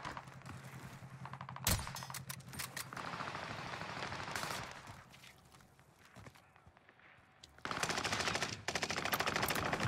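Tommy gun bursts of automatic fire in the Warzone video game on Rebirth Island, several rapid rattling volleys close and loud, broken by quieter stretches with movement and a sharp single shot, then sustained firing again near the end.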